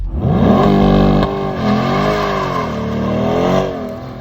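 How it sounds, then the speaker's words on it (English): A mid-engine C8 Corvette revs hard on a track day while trying for a standing burnout, its loud engine note surging and falling in steady harmonic sweeps close to the listener, with no voices. "It's almost like the car is so good that it doesn't want to do a standing burnout."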